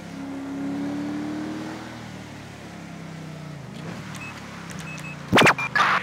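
The V8 engine of a Dodge Durango police car in the Grand Theft Auto 5 video game, a steady low rumble that builds slightly, with a couple of sharp revving bursts near the end.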